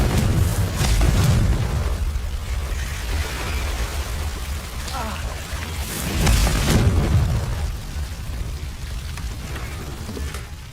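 Confringo fire spells blast in the Hogwarts Legacy video game, a dense run of loud, rumbling explosive bursts that swell and fade without pause.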